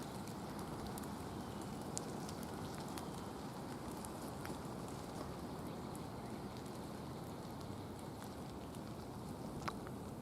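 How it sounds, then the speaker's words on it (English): Light rain sprinkles in pine woods at Walters Woods, a faint, steady patter with occasional sharper drips, and no voices. "Still walking in the rain."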